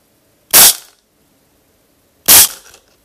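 Two sharp air rifle shots, spaced about two seconds apart, each a loud close crack with a short tail, fired at targets using heavy pellets such as RWS, JSB Exact Beast and H&N Piledriver.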